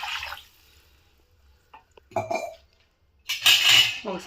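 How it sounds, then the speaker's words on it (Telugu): Water is poured into a pan for instant noodles, with short splashing and clattering bursts and a louder rush of liquid near the end, close and clear between quiet gaps. "ఇప్పుడు ఇందులోకి తగినన్ని వాటర్ వేసుకుందాము."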